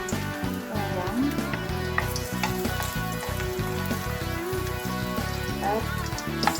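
Garlic fries in hot cooking oil for a pork shank hamonado, a steady sizzle with crackling pops heard under background music.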